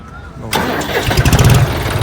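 A John Deere 5050D tractor's diesel engine cranks and catches about halfway through, then settles into a loud, rumbling idle with rhythmic knocking pulses.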